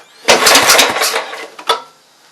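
A Bobcat 42-inch riding mower engine cranks and catches, runs roughly in a loud sputtering burst for about a second, then dies away before a brief second cough.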